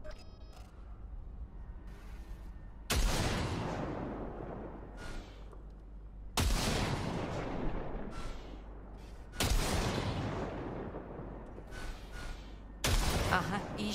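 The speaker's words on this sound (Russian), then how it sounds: "Дай по ней короткую очередь." Automatic gunfire in the video game Cyberpunk 2077 comes as four loud, sharp bursts spaced a few seconds apart, each decaying into a rumbling tail over quiet game ambience.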